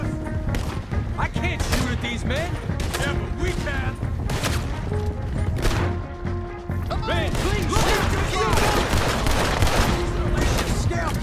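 Gunfire in the Western video game Red Dead Redemption 2 as the O'Driscoll gang is attacked: dense, continuous volleys of shots and crashes rattle on without a break, loud and close, with voices shouting over the shooting.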